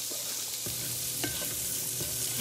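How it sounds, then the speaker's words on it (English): Butter melting and sizzling in a pan while being stirred, a steady close frying hiss broken by a few scraping strokes of the utensil against the pan bottom. "we've got our butter in here cooking. It's starting to melt down a bit"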